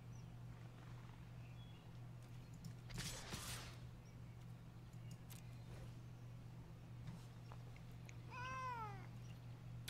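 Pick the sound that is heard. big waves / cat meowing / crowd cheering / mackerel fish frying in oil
cat meowing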